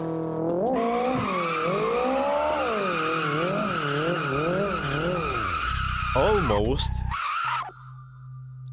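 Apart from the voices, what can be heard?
Nissan Silvia S15 drifting tire skid in video game Assetto Corsa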